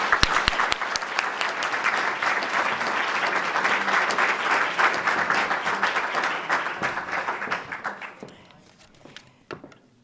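Audience at a 2015 volunteer awards ceremony applauding an honoree, a full round of clapping that stays dense and lively for several seconds, then thins out and fades toward the end.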